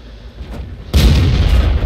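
A T40 tier 4 US tank destroyer fires its derp gun in a video game, one deep heavy boom that hits suddenly midway and rumbles on, loud and close.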